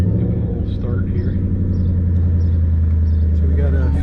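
A 2013 Roush Ford Mustang Stage 3 with a supercharged engine and Roush exhaust rumbles at a steady, loud idle up close while someone talks over it.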